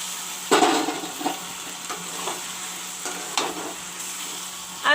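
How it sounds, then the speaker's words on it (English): Chicken fries with masala in a pan, sizzling, with a few sharp stirring scrapes and clinks of a utensil against the pan at irregular intervals. "I will let the chicken fry with the masalas little bit."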